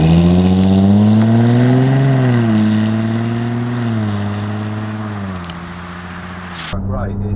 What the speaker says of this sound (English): Okay, so we're going to give the car a little run now through some country roads.